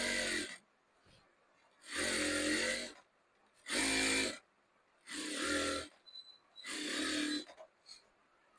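Sewing machine stitching a shirt, running in five loud, even bursts of about a second each, separated by short quiet pauses.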